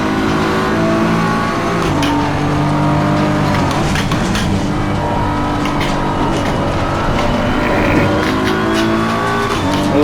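A GT3 race car in Assetto Corsa Competizione at Oulton Park roars loudly and without a break, its engine rising and falling through the gears with bursts of tire squeal.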